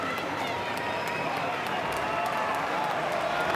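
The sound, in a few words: crowd applauding St Kilda Saints players at football match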